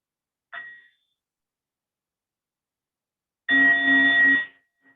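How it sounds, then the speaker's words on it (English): A meditation bell rings twice: a short faint strike, then after a pause a clearer, sustained bright tone that cuts off abruptly. "So listen to one sound of the bell."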